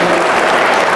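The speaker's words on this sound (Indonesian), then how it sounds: "Kalau kau suka hati, tepuk tangan." Loud, dense hand clapping from a group of students at a university gathering, close and continuous through the whole brief moment.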